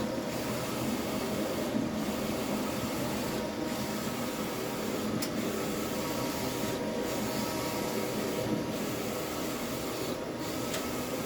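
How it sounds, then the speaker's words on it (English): A steady mechanical whir and hum of a large motorcycle-graphics printer running continuously, with faint rhythmic dips as the print head passes back and forth. "I print motorcycle graphics"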